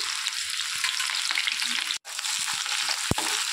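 Onions frying in hot tempering oil with toasted seasoning spices for an Andhra-style eggplant curry, a steady close sizzle with a brief break and a ladle scrape or clink near the end.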